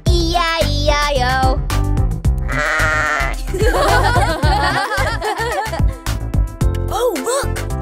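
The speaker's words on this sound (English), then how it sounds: "And on his farm he had a sheep, E-I-E-I-O." Sheep bleats in a farm nursery-rhyme song for children, sounding as loud wavering cries layered over bouncy backing music throughout.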